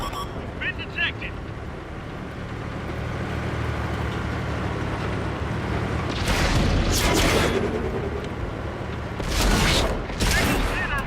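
World of Tanks battle in which a tank takes a shell hit: low rumbling engine noise with a loud, sharp impact midway and further heavy booms toward the end, a voice speaking over it.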